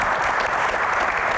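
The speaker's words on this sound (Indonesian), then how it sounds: "tepuk tangan semangat dulu buat Ibu Iren ya" An audience at an Indonesian Q&A event claps for a guest speaker, a dense, steady wash of applause filling the whole moment with no voices over it.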